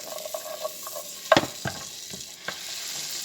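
Steak frying in a pan, a soft sizzle with scattered pops and a few sharper crackles, fairly quiet and close.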